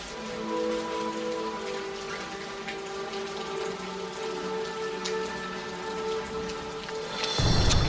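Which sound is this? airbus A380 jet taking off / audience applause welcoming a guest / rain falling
rain falling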